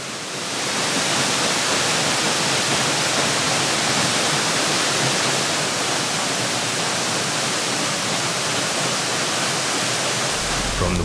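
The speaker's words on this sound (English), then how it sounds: "This roadside waterfall plunges 60 meters into the depth." A roadside waterfall plunging 60 meters roars as a constant, loud, broadband rush of falling water with no breaks.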